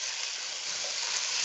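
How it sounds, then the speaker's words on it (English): Ground beef sizzles steadily in a hot skillet, a dense, even crackling hiss up close with no voices over it. "my skillet is a little hot, so you should hear that sizzle"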